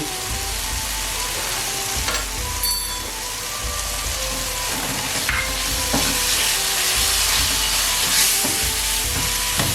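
Chicken for spring rolls sizzles loudly in a hot pan, a dense, constant frying hiss close by, broken by occasional sharp stirring clinks and scrapes, with no talk.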